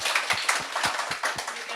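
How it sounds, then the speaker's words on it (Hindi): An audience at a business seminar claps for a guest in a steady, rhythmic beat of even claps, a group clapping together at moderate loudness with no talking. "अशोक जी के लिए तालियां बजाइए"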